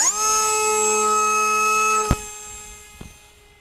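A Sky Surfer RC plane's electric motor spun up to full throttle, a close, steady high-pitched whine held for about two seconds, then a sharp knock and the whine fading quickly as the plane moves away.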